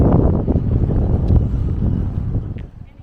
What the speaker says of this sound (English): Bit windy, need to keep hold of my hat.